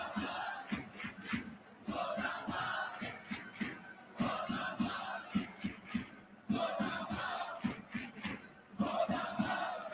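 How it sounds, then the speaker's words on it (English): Baseball fans in a packed stadium at a Marines vs Lions game chant and cheer in a loud, rhythmic pattern of repeated bursts that keeps going throughout. "Gotta love that the fans are cheering hard for a man who they know is bunting"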